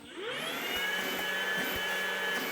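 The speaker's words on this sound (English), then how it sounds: "Let's throw a battery in the vacuum cleaner here and see if this thing runs all right." A Makita cordless battery-powered vacuum cleaner whirs steadily at close range, spinning up over the first fraction of a second and then holding a constant high-pitched motor whine, running weakly on worn-out batteries.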